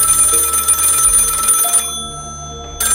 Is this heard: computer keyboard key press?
no